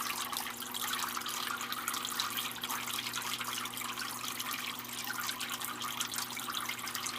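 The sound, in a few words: Zoo Med Turtle Clean 75 turtle filter pumping water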